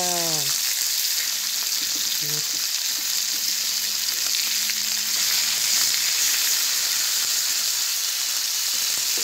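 Fried pork belly sizzling in a broiling pan on a stove, a steady dense hiss of frying fat throughout, close and continuous, with a brief low voice-like tone near the start.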